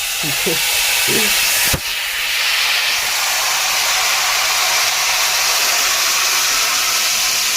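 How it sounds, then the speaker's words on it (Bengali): Lote fish drop into hot oil and set off a loud, sustained sizzle and hiss that fills the rest of the moment after a brief voice at the start. "তেলটা আমার হয়ে গেছে আর এইবার দিয়ে দেবো মাছ"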